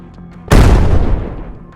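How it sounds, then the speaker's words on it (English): A sudden, massive explosion of a military vehicle struck by an FPV drone bursts after a brief quiet, a deep booming blast that rumbles and slowly fades. "a massive explosion shook the ground"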